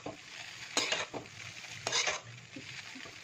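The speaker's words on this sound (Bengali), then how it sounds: "দেখুন দিয়ে দিচ্ছি ম্যাগি। ভালোভাবে একদম নাড়িয়ে নিতে হবে।" Maggi noodles being stirred in a pan, with two bursts of scraping and sizzling a second apart over a low, steady frying hiss, close and moderately loud.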